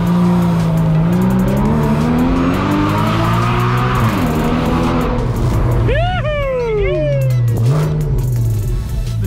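A blue Porsche's engine revs hard and accelerates on a city street, loud and close, with rising and falling swoops and sharp squeal-like tones, while people talk over it.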